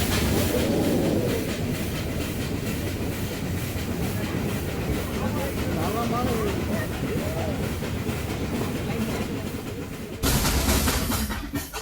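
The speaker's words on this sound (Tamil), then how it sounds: "இந்த டாய் ட்ரெயின் தாங்க இருக்கிறதே ஸ்லோவஸ்ட் டாய் ட்ரெயின்னு சொல்கிறாங்க." The Ooty toy train on the Mettupalayam to Ooty mountain railway rolls along with a continuous rhythmic clickety-clack and rumbling hiss, heard from on board at steady volume, with a brief jolt near the end.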